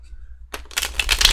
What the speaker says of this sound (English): I always forget how to shuffle by the time I get to Aquarius.